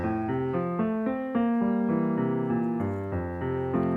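A vocal coach sings a long Rossini warm-up scale, a steady run of sustained sung notes stepping up and down across a wide range, voiced alone and close with no talking.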